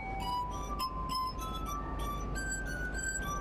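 Tuned drinking glasses played as a glass harp ring out in clear, sustained tones, with several overlapping rubbed notes that swell and shift pitch one after another, with no voice over them.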